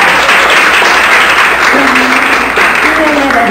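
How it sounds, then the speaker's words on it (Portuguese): Loud, close applause from a studio audience on a fashion television program, dense continuous clapping with voices and a brief tonal sound mixed in partway through. "Aplausos pra ela!"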